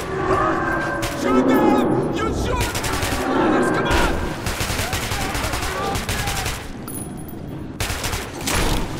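Sustained automatic gunfire in the Metro 2033 Redux underground, loud rattling bursts filling the whole stretch with shouting voices mixed in amid the chaos.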